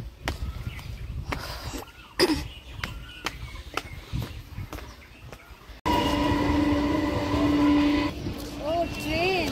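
A local commuter train at a suburban railway platform on the Bangaon line. Clattering knocks are followed by louder, sustained horn-like tones as the train comes in, and voices are heard nearby.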